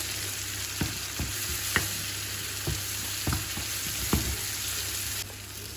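Four whole chopped onions frying in oil for a fried kibbeh filling, a steady close sizzle broken by several sharp knocks and stirring scrapes.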